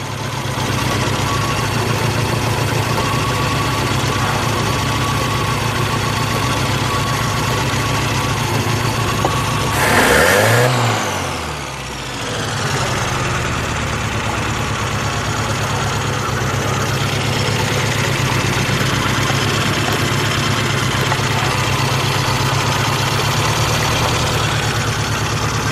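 A Honda engine under carburetor repair runs loud and steady nearby, with one brief surge and dip in its note partway through before it settles back to an even drone.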